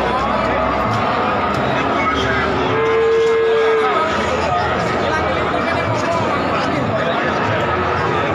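Cattle lowing at the Wirosari livestock market in Grobogan, a sustained moo standing out around the middle over a dense bed of crowd chatter and market noise.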